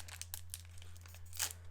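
Foil wrapper of a Bakugan booster card pack crinkling and tearing open in short bursts, with one louder rip near the end, close up and fairly quiet over a steady low hum, no talking.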